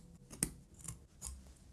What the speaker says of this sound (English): Trim everything net to the edge of your fabric.